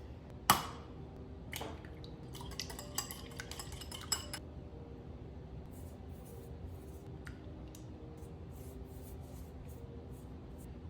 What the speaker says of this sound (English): We're just gonna lightly beat the egg and spread it across the crust.